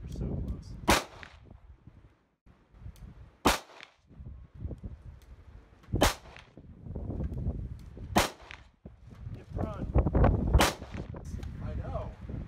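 Steel-case ammunition fired from a magazine at a shooting range, five or six loud sharp shots spaced a few seconds apart, with people talking between them.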